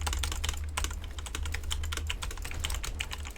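Rapid, close typing on an Apex Pro computer keyboard, a dense, steady stream of crisp key clicks over a low hum, with no voices.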